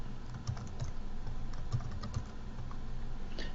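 Keys tapped on a computer keyboard to enter a number, a handful of distinct, close clicks spaced irregularly over a quiet room background.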